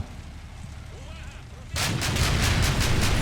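Quiet rumble in the Combat Mission video game, then at the midpoint a loud burst of rapid gunfire and cannon blasts against a BMP-2 begins and continues steadily to the end, dense and close.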